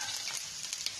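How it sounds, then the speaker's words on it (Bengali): Green chilies and curry leaves hit hot oil in a pan, giving a steady, close, loud sizzle and crackle throughout with no talking. "কাঁচা লঙ্কাগুলো দিয়ে দিলাম কারি লিপ দিয়ে দিলাম"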